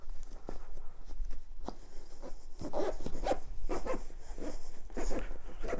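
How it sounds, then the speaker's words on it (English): A zipper pulled closed along a foam dinette cushion cover with Dacron wrap for an R-Pod 179 camper, giving a series of short scratchy rasps and rubbing bursts, close up and steady, with no talk. "push down the Dacron and let the zipper run along like that"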